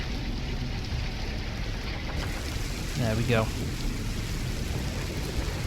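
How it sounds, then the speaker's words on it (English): Steady rain falls in the video game Farming Simulator 19, a dense, constant hiss and patter across the whole stretch, with a brief spoken remark midway. "I've had enough of the rain, I've had enough of getting drenched."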